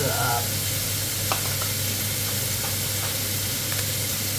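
Chilies sizzle in a hot pan while pork kra pao is stir-fried, a steady close frying hiss with faint scrapes and clinks of stirring throughout, with no speech over it.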